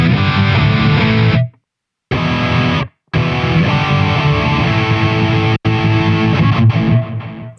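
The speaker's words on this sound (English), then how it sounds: "the next bank is the distortion bank." Headless electric guitar through a distortion patch with a noise gate, loud saturated chords ringing in bursts, cut off by abrupt gated silences between phrases.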